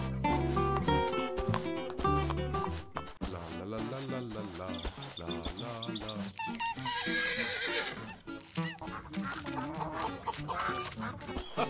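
A cartoon horse neighs loudly several times between rhythmic clopping hooves, mixed with other farm animal calls and busy background sounds.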